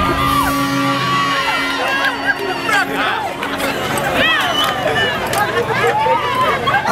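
Crowd at the Reggae World Unity Fest live concert whoops, yells and cheers, a continuous wash of excited voices over a musical backing, with individual shouts rising above the noise.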